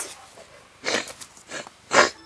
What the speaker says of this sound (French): Désolé si je renifle un peu.